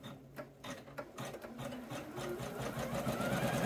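An embroidery machine stitching down the zipper on an in-the-hoop heart zipper pouch, a steady fast mechanical whirring and needle chatter, fairly quiet and continuous with no talk.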